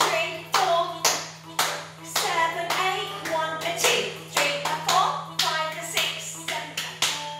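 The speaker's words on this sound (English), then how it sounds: "So clapping first" Sharp hand claps in a tap dance practice, set in a steady rhythmic pattern over background music with a constant low hum, each clap crisp and close.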